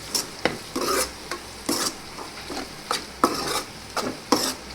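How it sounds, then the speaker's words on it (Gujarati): Spices and tomatoes being stirred in a pan for a Gujarati okra curry: a regular series of scraping stir strokes roughly every half second over a soft background sizzle, close and clear, with no voices. "પછી બધા મસાલાને હલાવીને મિક્સ કરી દઈશું"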